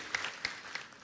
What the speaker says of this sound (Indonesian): Boleh tepuk tangan banget saudara.